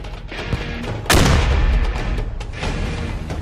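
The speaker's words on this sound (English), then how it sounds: "Okay, I throw a frag inside the compound." A frag grenade exploding inside a compound in the game Squad, a sudden loud, close boom followed by a rumbling decay, with distant gunfire and battle noise around it.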